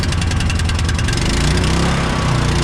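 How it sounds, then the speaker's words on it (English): A small gasoline engine drives a water pump on a flooded farm, running with a steady, buzzing chug that stays loud and constant throughout. "let's start this engine up and see if we can get it to pump"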